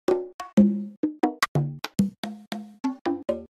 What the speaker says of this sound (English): Yeah, I did a lot of bongos and congas and congos.